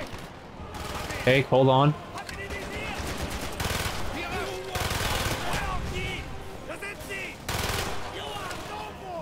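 A PPSh submachine gun fires in Call of Duty Black Ops during a campaign battle, loud bursts of automatic fire mixed with explosions and game effects, while someone speaks briefly.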